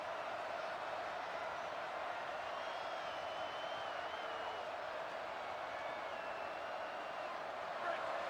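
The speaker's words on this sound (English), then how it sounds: "It's early, but this crowd is fired up. Listen to this noise here." A football stadium crowd roars in a steady, sustained wall of cheering and noise, fairly distant and continuous throughout, with faint whistles or whoops rising above it.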